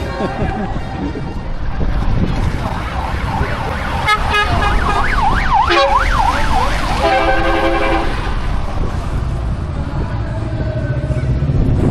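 A fire engine siren wails in rising and falling sweeps as it passes along a street during a light parade, loud and close over traffic rumble and crowd noise, with people talking nearby.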